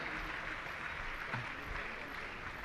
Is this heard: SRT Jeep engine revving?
no